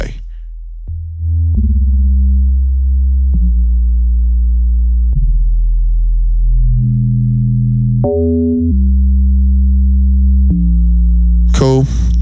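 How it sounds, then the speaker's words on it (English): Sine wave bass notes with a sinoid fold adding harmonics, playing a slow sequence of sustained, clean tones that step between pitches, with a brief noisy burst at the end. "If you put a sinoid fold on like on just like sine waves, it just brings out all these harmonics."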